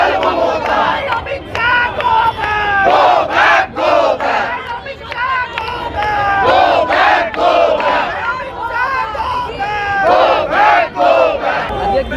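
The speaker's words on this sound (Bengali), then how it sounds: "এয়ারপোর্ট চত্বর রীতিমতো উত্তাল হয়েছে অমিত শাহ গো ব্যাক স্লোগানে" A large crowd chants 'Amit Shah go back' slogans at an airport, loud rhythmic shouting voices rising and falling continuously in unison with crowd noise throughout.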